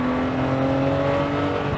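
A BMW M3 E36, lowered, holds a steady, resonant engine drone heard from inside the car, smooth and continuous throughout the short moment.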